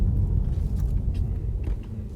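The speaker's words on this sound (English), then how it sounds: "let's just drive it back to where we were, Jensen." A BMW i8 hybrid sports car drives slowly, a low steady rumble from close by with no talk over it.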